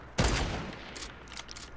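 Shooter video game gunfire: one loud close burst of shots opens the moment, then fades into a lower rumble with a few faint scattered sounds after it.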